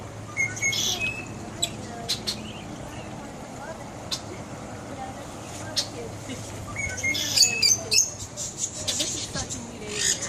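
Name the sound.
birds chirping in a bird cage at an animal farm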